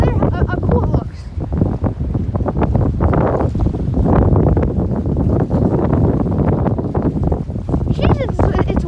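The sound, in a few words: strong wind storm at the beach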